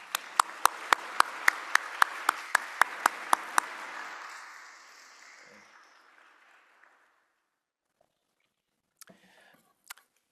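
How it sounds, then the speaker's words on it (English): An audience gives a round of applause, a burst of dense clapping with a few sharp claps on top that fades away over several seconds into near silence, followed by a few faint clicks. "Everyone, let's give a round of applause for them."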